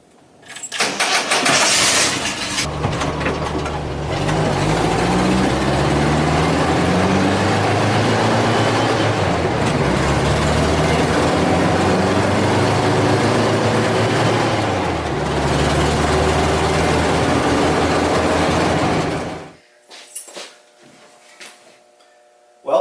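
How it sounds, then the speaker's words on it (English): A 1973 VW Bus engine starts and runs loudly for several seconds, revving up and down as it pulls away, then cuts off into near silence. "We're going to take her for a quick spin so that way the engine can warm up"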